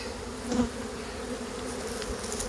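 Honeybees buzzing during the requeening of a hive, a steady close insect drone that holds constant throughout, with a brief louder swell early on and no speech.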